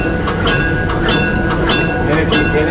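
A passenger train pulls in on the rails at a tourist excursion line, a steady loud rumble with repeated rhythmic clicks of wheels over rail joints, close by and continuous.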